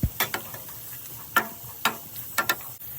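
Pineapple fried rice with cashews and raisins is stirred in a pan: scattered scraping, clattering strokes of a utensil over a faint, steady sizzle, close and fairly quiet, with no talk.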